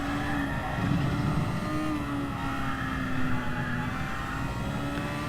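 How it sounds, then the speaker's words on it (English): A race car engine in Gran Turismo Sport drones loud and steady throughout, its tone rising and falling slightly as it runs through the gears. "Love that engine note."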